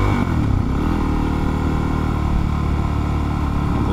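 A motorcycle engine on a city street in a Tokyo residential district, a steady loud drone with revving and rumble throughout, close by, with no talk over it.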